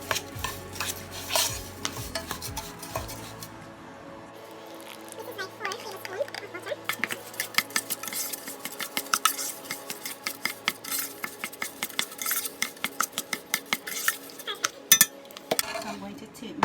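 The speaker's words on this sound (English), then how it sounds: "I'm going to add my butter to it, and I'm going to mix it up till it becomes crumbled" Butter is stirred into a cheesecake crumb base with a utensil in a bowl, with repeated clinks and scrapes growing busier toward the end while children chatter in the background.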